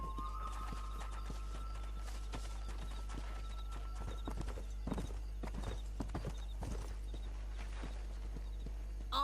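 Horse hooves clip-clop in the Red Dead Redemption video game, a soft irregular walking rhythm of hoofbeats over a steady low game hum, with a brief whinny-like tone early on.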